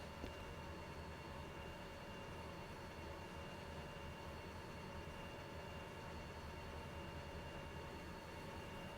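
Heavy freight train rolling along in the railway simulation game Derail Valley, a steady, continuous low rumble of wheels and engine with no breaks, fairly quiet and without talk.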